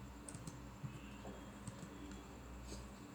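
A command is typed into a terminal on a computer keyboard, a quiet, close run of light irregular key clicks spaced across a few seconds in an otherwise still room.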